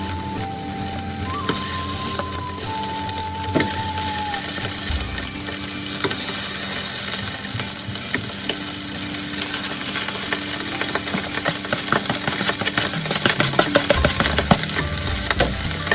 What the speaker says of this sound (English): it's time to add in the mackerel fillet in the frying pan